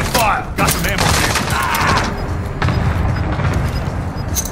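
Dense, loud gunfire fills a Warzone battle in Sanctuary mode at night, with continuous bursts of shots and booms mixed with game voice callouts.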